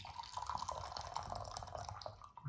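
Black tea, a Japanese Benifuuki or Zairai wakocha, pours steadily into a cup, a continuous soft splashing trickle with light dripping, close and alone.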